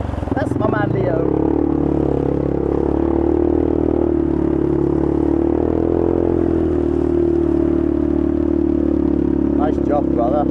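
ATV engine revving hard as it pushes through deep water on the Seelong trail in Johor, a steady loud drone with splashing clatter, and voices shouting encouragement over it.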